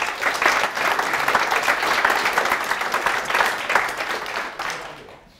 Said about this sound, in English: Again, another round of applause, please.